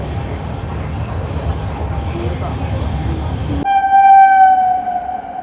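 The Shri Ganganagar–Delhi Intercity train runs past a station with a loud, steady rumble of wheels and carriages, then a sustained horn blast sounds close by toward the end.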